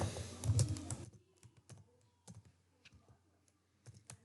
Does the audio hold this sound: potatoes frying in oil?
no